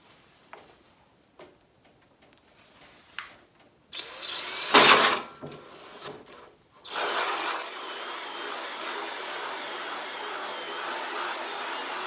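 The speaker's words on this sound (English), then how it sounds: "So I got my drill set up with the hole saw." A few clicks and knocks, then a power drill whirs up and grinds steadily at slow speed as a 4-inch hole saw cuts, running on with a continuous droning buzz.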